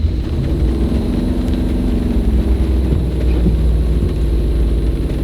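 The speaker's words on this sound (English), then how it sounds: "You can see even though I'm revving it at 1 speed" A car engine runs loud and close at a held, steady rev, producing a constant droning rumble with no obvious rises or drops and no talking.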